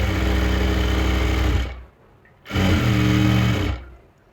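A sewing machine stitching the hem of a salwar runs in two steady, close bursts of whirring, the first about a second and a half long, then a short pause, then a second run of similar length.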